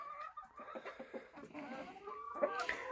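Turken chickens, hens and roosters, cluck in a coop on a snowy day. Several birds can be heard at close range making rapid, overlapping clucks and short calls, with a little quiet talk.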